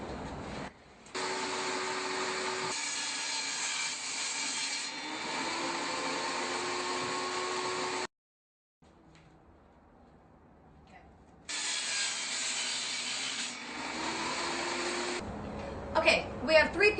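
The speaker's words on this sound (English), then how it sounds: "we're going to get cutting on this, and I'm going to show you how to cut a perfect circle" A power tool cuts a circle out of a plywood piece in two long, loud, steady whining runs separated by a brief pause. The sound is close, with no talking.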